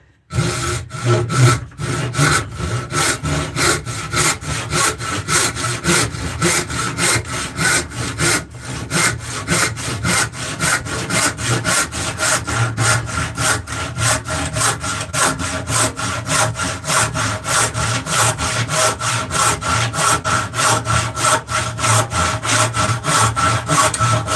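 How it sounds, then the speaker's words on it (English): A hand saw rasps steadily through white oak in fast, rhythmic back-and-forth strokes, loud and close, continuing without pause. "I've been sawing this whole thing in white oak"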